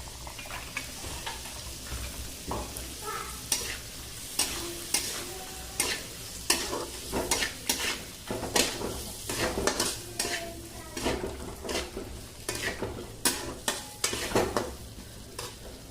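Soaked chana dal with spices frying in a pan, stirred with repeated scraping strokes of a spoon over a steady sizzle, close and fairly loud, with no talking.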